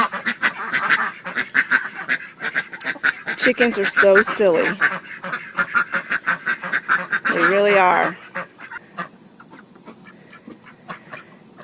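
Ducks quack in short repeated bursts, close and loud, while a person talks over them in between.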